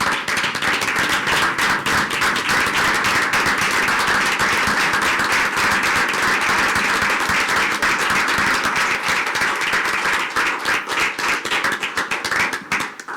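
A school board meeting audience applauds a board member, dense sustained clapping from many hands filling the room and tapering off near the end.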